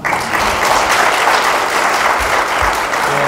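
A full room of participants at a business leaders' forum lecture claps loudly and steadily, a dense, sustained roar of applause for an honorary member, with a few low thumps underneath.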